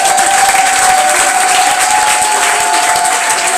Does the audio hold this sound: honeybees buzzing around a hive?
no